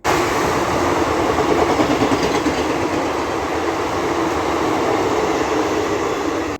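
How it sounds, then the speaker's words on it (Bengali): The Malda Intercity express passes a station platform, a loud, continuous close rumble with a rhythmic rolling clatter of wheels that lasts the whole stretch. "যে ট্রেনটা গেল মালদা ইন্টারসিটি।"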